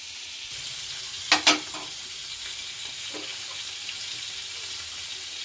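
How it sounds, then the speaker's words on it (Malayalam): Constant hissing sizzle of fish frying in a pan, with a couple of brief clinks early on and no voices. "ഒരടപ്പത്ത് മീൻ പൊരിക്കാൻ വെച്ചിട്ടുണ്ട്"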